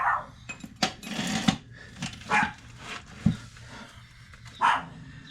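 A female Chihuahua barks in sharp, high yips several times over a few seconds, close by, with small clattering noises in between and no talking, in a garage during an O2 sensor and exhaust install.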